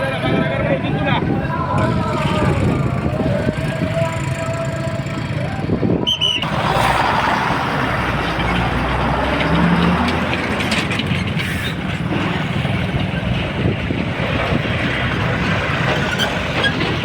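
Road traffic flows again across the Manjara river bridge after a blockade, with a continuous rumble of passing vehicles and engines and a voice talking over the traffic noise.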